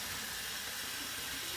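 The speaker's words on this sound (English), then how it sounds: "Get some hot water right on top of that puck." Hot water pours onto a Blue Barbershop shaving soap puck as a steady, soft splashing hiss that runs evenly throughout, with no voices.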